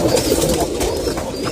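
Pigeons in a loft give a steady, dense murmur of low cooing with overlapping calls, close and continuous throughout.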